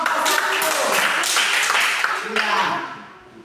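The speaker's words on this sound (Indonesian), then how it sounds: "Tepuk tangan untuk kelompok" Applause for a student group at a Christian religious education teaching assessment session, a steady burst of clapping from a small audience lasting a few seconds, mixed with talk, then fading at the end.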